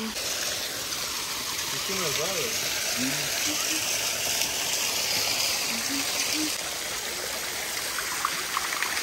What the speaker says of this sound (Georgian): აი ეს არის სიყვარულის ჩანჩქერი, მეგობრებო